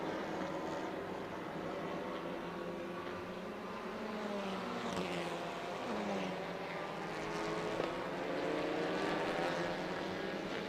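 TCR touring race cars roar past at Termas de Rio Hondo in Argentina, a steady, loud engine drone with rising and falling pitch as cars pass, continuous throughout.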